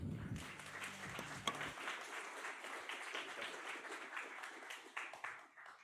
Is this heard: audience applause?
yes